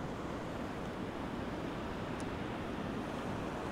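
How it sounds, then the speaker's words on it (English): Ocean surf rolling onto the shore under moody, cloudy weather, a steady broadband wash of breaking waves with some wind rumble, continuous and fairly loud throughout. "may come some waves."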